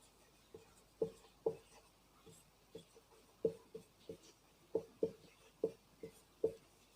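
Chalk or marker tapping and scratching on a board while a triangle angle problem is worked out, about a dozen short distinct strokes in an irregular rhythm, close and fairly quiet.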